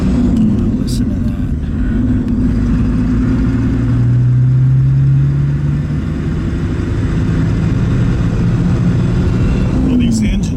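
A 1938 Packard Twelve Model 1607 formal sedan's V12 engine runs close by with a deep, steady drone and a gentle rise in revs midway, while people talk over it.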